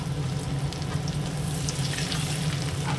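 Chopped onion goes into hot oil in a pan with garlic already frying, giving a steady, close, loud sizzle that holds evenly throughout with no talking.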